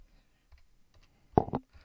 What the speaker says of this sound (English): Sorry for my terrible typing skills.